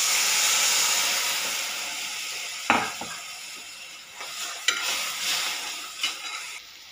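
Water poured into a hot pan of green chillies, garlic and turmeric hisses into a loud sizzle that fades, then a few sharp stirring scrapes cut through the settling bubbling.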